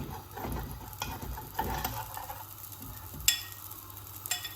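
Batter dropped into a hot pan for a Mahoran dish, a soft sizzle with a few scraping and clinking touches of the utensil, close but fairly quiet and without voices.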